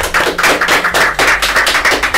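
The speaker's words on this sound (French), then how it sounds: "Ça s'applaudit, s'il vous plaît." Studio audience applause, a dense continuous patter of many hands clapping at steady loudness throughout, with no voices heard over it.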